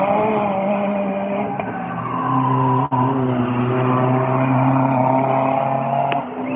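A rear-wheel-drive prototype rallycross car with a diesel engine at a Słomczyn track qualifying session, a loud sustained engine drone with shifting tonal pitch and a brief dip mid-run, heard alone without talk.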